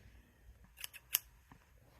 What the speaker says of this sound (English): Now we need to cut out a separate piece of paper that is going to be the outline for the light beam of our flashlight.